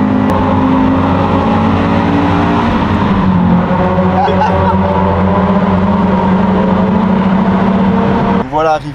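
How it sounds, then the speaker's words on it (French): Many cars gathered at a large Japanese car meet, a dense steady rumble of idling and revving engines with a faint passing whoosh, continuous and loud throughout, ending in a brief tonal squeal. "il y a beaucoup de voitures."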